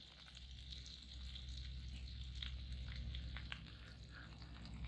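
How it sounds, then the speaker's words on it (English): Sausage and boudin cooking over a campfire outdoors, a steady close crackling sizzle with scattered pops running throughout, no voices. "The sausage on there cooking, and the boudin."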